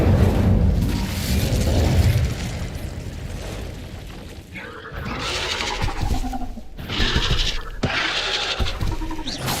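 Incendio fire spells cast in Hogwarts Legacy, heard as loud whooshing bursts and crackling blasts over a rumbling battle soundscape, several in quick succession.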